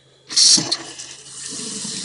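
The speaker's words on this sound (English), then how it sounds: "Here's the faucet it likes to leak." Water gushes from a faucet in a Newmar Dutch Star motorhome close by, starting with a bright splash and then settling into a steady running stream.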